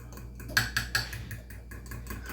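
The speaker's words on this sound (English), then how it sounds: "We're going to stir this together first." Spoon stirring seafood deviled egg filling in a bowl, a few quick clinks and scrapes against the bowl in close succession, then softer scraping, no talk.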